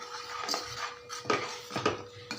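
Grated coconut is worked into kozhukattai dough in a bowl, giving a few soft scraping knocks and clinks of a spoon against the vessel spaced through a quiet background.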